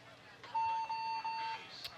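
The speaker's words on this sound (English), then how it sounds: "Still need to hit the buzzer." At the end of a roller derby bout, an electronic buzzer sounds a steady tone for about a second, heard at a distance in an arena, with faint crowd noise and talk around it.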